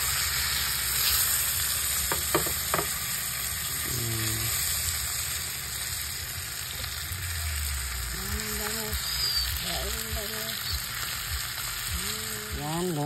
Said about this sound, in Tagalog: Dito ko niluluto para kunti lang yung mantika ang nagamit.